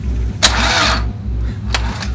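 Car engine cranked after a jump lead is connected to a flat battery: a short starter whir that catches into a loud, close idling rumble, with brief clicks and some voices.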